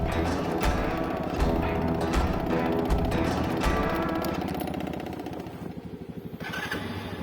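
A motorcycle engine started with a key and left running, a close, loud, rattling idle with quick repeated pulses and mechanical clatter that eases slightly toward the end, with no talking.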